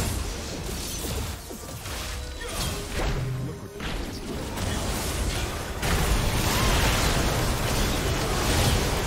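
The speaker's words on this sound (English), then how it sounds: "Blue team's turret has been destroyed." A turret being destroyed in League of Legends, a loud crashing explosion with a whooshing burst, followed by dense, sustained battle noise and impacts.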